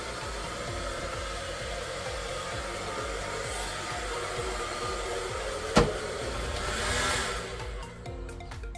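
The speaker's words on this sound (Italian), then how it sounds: "Per chi pensa che non vi posso fare la doccia e lo shampoo e il phon in camper." A hair dryer blows with a steady, close whooshing roar throughout inside a camper, joined by a brief sharp click partway through.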